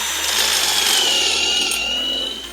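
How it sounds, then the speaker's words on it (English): A power drill bores through a misaligned hole in a wooden swing set, its steady high-pitched whine and grinding of bit on wood running close and loud before easing off at the end. "I'm gonna take my drill, aim towards this hole, try taking out some material"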